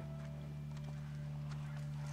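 Horse hooves clip-clopping in The Last of Us Part I video game, a steady, even stream of soft hoof falls held low under a constant droning background hum, with no voices.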